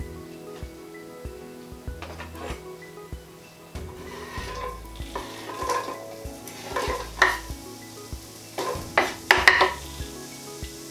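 Onion and garlic hit a big frying pan and start sizzling, with a utensil stirring and tapping intermittently, clinks growing louder toward the end, close and without speech.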